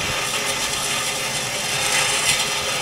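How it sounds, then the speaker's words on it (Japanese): Drill slowly boring an overflow hole through an aquarium tank, a continuous close grinding rasp with a faint ratcheting texture, steady and alone. "慎重にドリルを回し始めます。"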